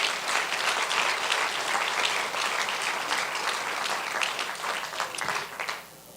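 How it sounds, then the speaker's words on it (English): An outdoor crowd at a TriMet grand opening ceremony applauds loudly, dense sustained clapping from many hands that tapers off in the final second. "Big round of applause"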